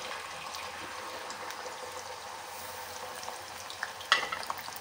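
Small aloe vera pieces in oil that is heating on a low flame give a faint, steady sizzle, with a couple of sharper pops and a stirring clink near the end.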